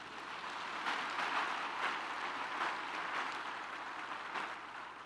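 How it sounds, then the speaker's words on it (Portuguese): Church congregation clapping together during a Pentecostal sermon, a steady crowd applause with rhythmic swells that holds for several seconds, moderately loud and diffuse with no voices over it. "Quem recebe isso, dá um aplauso aí ao Senhor."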